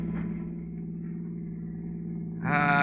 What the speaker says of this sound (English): Listen to that motor purr, Peggy.